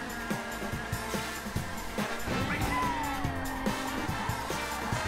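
A car races through a time trial in a racing game, its engine humming steadily with rhythmic low thumps. A thin squealing tone glides across the middle as the car slides through a drift.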